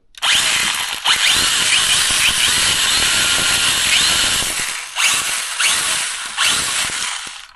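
A small STIHL GTA 26 battery-powered pruning saw runs loudly up close on low battery, its high buzzing whine dipping briefly a few times before revving back up.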